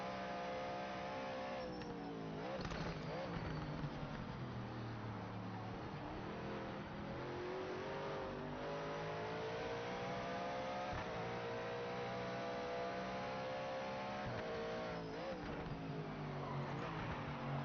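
Powerful race car in Project Motor Racing, its engine revving and holding high pitch continuously, rising and falling with throttle, with faint tire noise and no speech.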